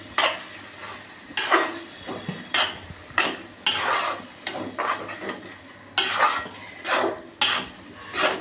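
Spoon stirring snake gourd and lentil sambar with coconut paste in a metal pot: repeated scraping sweeps against the pot in bursts about once a second, close and clear, with no talk.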